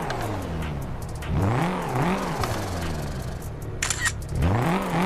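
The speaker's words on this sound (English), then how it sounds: "Now let's do some revving." A car's stock engine revs in Car Parking Multiplayer, rising and falling in several loud, close sweeps with brief pauses between bursts, and no talking.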